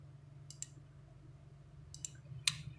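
A computer mouse clicking a few times, with sharp close clicks in small pairs over a low steady hum.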